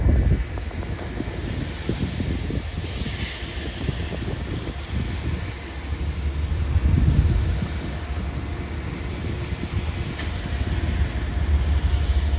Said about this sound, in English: Here's some other trains leaving.